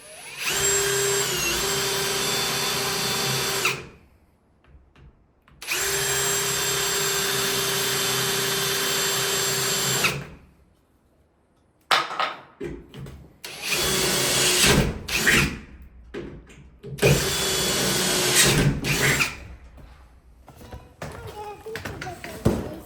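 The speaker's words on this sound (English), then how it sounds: "drill this." A power drill whirs into wood in long sustained bursts, stopping and starting, with brief pauses and a voice speaking in the gaps.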